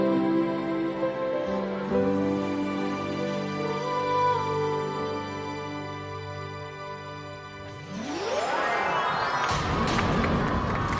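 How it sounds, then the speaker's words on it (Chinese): Studio audience at a Chinese TV variety show breaking into cheering and applause, rising loudly in the last few seconds after sustained musical tones. "掌声掌声 掌 声，好棒好棒。"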